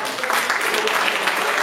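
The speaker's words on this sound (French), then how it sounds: "Est-ce qu'on peut applaudir pour ce monsieur?" Brief burst of audience applause at a French-language youth event, loud and dense clapping from a crowd lasting under two seconds.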